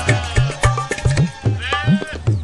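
A goat bleats in repeated short nasal calls, about seven or eight quick close bleats in a loose rhythm with no other sound.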